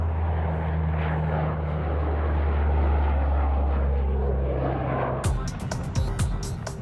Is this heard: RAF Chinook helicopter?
yes